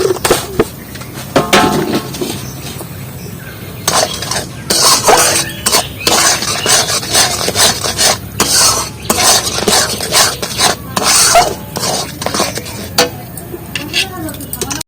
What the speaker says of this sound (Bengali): আর এই চিনিগুলো গলা পর্যন্ত আমি তালের শাঁসটা নাড়িয়ে নেব।